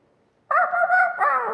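A person imitates the voice of Blue, the cartoon dog from Blue's Clues, at a comic convention: a sudden, loud, sustained yelping bark-like vocal that runs about a second and rises again at the end, with no talk over it.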